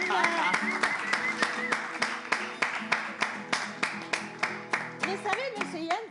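An audience claps in a steady, even rhythm for a man on a French-language live show. The crisp, regular claps continue throughout while a voice speaks and calls out over them.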